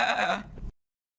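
A short, wavering bleat like a goat, close and clear, lasting under a second before cutting to silence.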